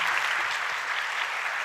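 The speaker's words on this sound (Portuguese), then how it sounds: "uma salva de palmas pela brilhante explanação" An audience at an academic event gives sustained, steady applause, a dense wash of clapping that continues evenly without voices over it.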